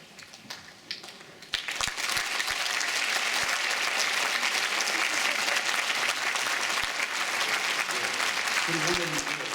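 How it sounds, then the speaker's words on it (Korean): Audience at a choir concert in Korea bursts into sustained applause that starts abruptly and fills the hall, broad and steady, with a faint voice near the end. "여러분들 여기 합창단 나오면 큰 박수로 환영해 주시기 바랍니다"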